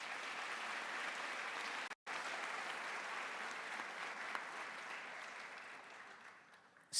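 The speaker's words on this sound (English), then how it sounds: "let's all give ourselves a round of applause just to start off with" A large audience at an awards ceremony applauds, a steady dense wash of clapping that holds for several seconds, briefly cuts out, then continues before slowly thinning out.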